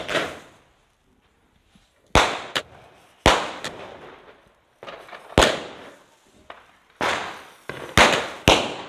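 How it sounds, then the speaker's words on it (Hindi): Diwali firecrackers from a sweet-box style firework, a series of sharp loud bangs after a quiet start, about nine blasts spread irregularly, some close together, each with a short crackling decay. "अभी ना भाई मिठाई के डब्बे में से जो बम निकलने वाला है वो दिखाते हैं, तो वो कैसा पटकेगा"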